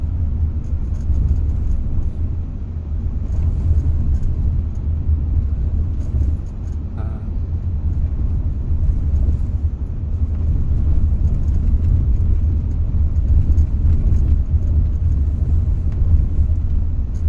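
A Hyundai Santa Fe Hybrid rolls over a rough, bumpy road, heard as a steady low cabin rumble with faint knocks and thumps from the suspension, muffled inside the car and with no talking.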